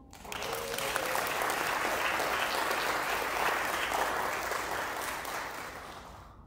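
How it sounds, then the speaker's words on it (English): Church congregation in a sanctuary applauds a newly blessed couple, a full steady round of clapping that swells in, holds loud and even, then fades out over several seconds. "And you can applaud."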